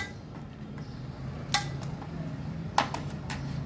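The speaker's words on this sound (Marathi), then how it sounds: "आणि यामध्ये आपण पाणी न घालता आईस क्यूब जे बर्फ जो आहे तो आपण टाकूया." Ice cubes dropped into gulkand lassi, giving two distinct, crisp clinks over a second apart against a quiet kitchen background.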